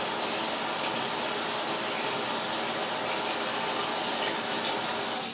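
Tap water runs hard and steady during darkroom film processing, a constant broadband rush that fills the whole stretch with no pauses or talk.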